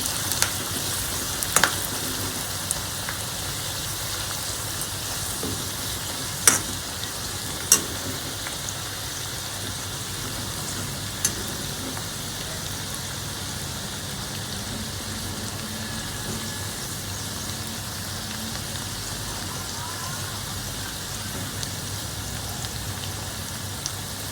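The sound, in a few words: onions sautéing in a pan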